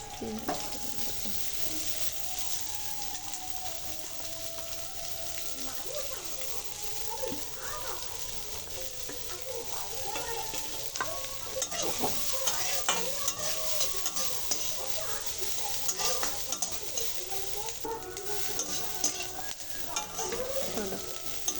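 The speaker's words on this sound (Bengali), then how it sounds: "তারপরে পেঁয়াজ ফোড়ন দেবো।" Onions fry in mustard oil in a kadai with a steady close sizzle, broken by repeated scraping and clinking stirs of a spatula against the pan.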